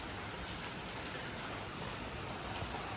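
Rain falls over open farm fields in a steady, even hiss with no breaks, soft and diffuse, with no voices.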